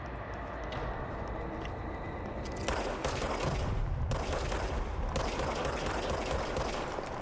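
Service Weapon fire in the game Control, a steady crackling run of gunshots over a rumbling game backdrop, growing denser and louder partway through with brief pauses between bursts.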